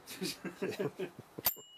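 A single sharp bell ding on a Nazca Quetzal recumbent tandem bicycle rings out near and bright, with a short ringing tail, right after a stretch of casual talk.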